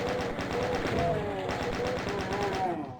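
Rapid shotgun and chaingun fire rattles in a DOOM game level, a continuous loud burst of gunfire through the whole stretch.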